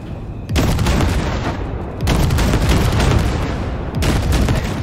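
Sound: gunfire blasting wrecks in video game Cyberpunk 2077

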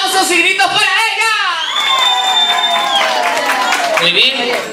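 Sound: audience applause and cheering for a girl

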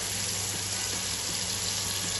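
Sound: draining cooked macaroni in a strainer

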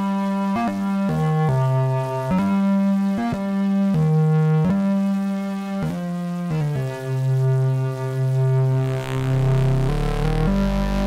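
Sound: synthesized flute sound with bass synthesizer

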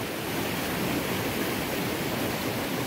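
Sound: water rushing down after heavy rain

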